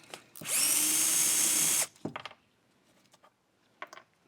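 A power tool whirs in one steady burst of about a second and a half, loosening bolts during a teardown of a Husqvarna leaf blower, followed by a few clanking handling knocks and small clicks.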